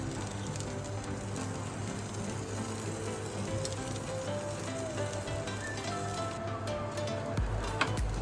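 Rava uttapam sizzles in butter on a hot pan, making a continuous bright frying crackle with small pops, close and steady, with a brief clatter near the end.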